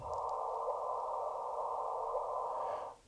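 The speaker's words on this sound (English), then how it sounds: "So you can actually hear the audio bleep," Sonified LIGO gravitational-wave detection audio sped up a hundredfold: a steady, loud band of hissing tone holds for about three seconds, then swells and sweeps briefly upward just before cutting off.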